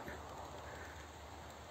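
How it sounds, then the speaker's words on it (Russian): Steady rain patters through a forest in autumn, a soft continuous wash of drops with faint bird calls in the background. "Дождь идет, а мы все еще в лесу."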